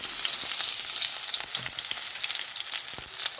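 Curry leaves drop into hot coconut oil for a Kerala-style inji puli and sizzle loudly and continuously up close, a dense bright hiss with scattered small pops.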